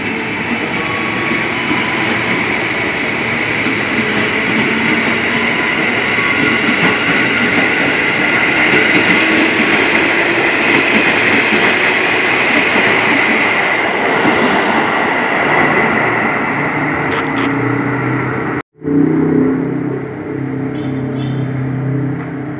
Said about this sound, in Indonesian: Ini berangkat lagi nih keretanya yang ke Bogor ya.